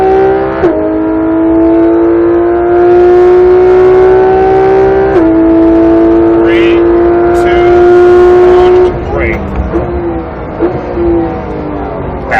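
A Porsche GT3 RS accelerates hard around the Speed Vegas race track, its loud engine note climbing in pitch through several quick upshifts before easing off near the end, with an instructor talking over the engine.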